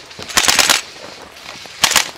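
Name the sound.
gunfire in a shooter video game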